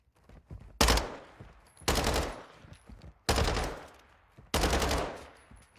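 Automatic weapon fire in Warzone 2 comes as four loud, close bursts of rapid shots, each a second or so long, separated by short quiet gaps, with no voices.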